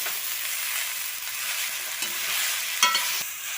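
Pumpkin leaf thoran stirred in an open pan, a steady soft sizzle with scraping spoon strokes throughout and a brief louder clatter near the end.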